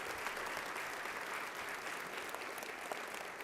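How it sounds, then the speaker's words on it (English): An audience applauding at an All-Stars luncheon, dense steady clapping throughout, moderately close and continuous. "Please give them a round of applause."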